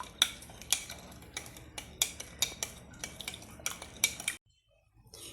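A spoon stirs powdered jaggery and grated coconut in a dish, giving a series of close, bright metallic clinks and taps in an uneven rhythm, then stopping into near silence.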